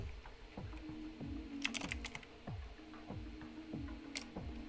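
Computer keyboard being typed on to name a new folder, a quick run of soft close key taps in an uneven rhythm, faint against a quiet room with no talking.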